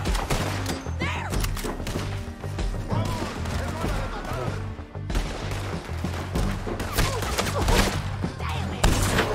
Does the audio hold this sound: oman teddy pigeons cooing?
no